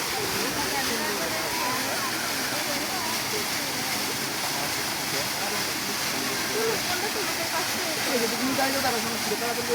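Water from a fountain waterfall in a kids' amusement park pours in a constant broad hiss and rush, even and unbroken, with faint voices blended into the background.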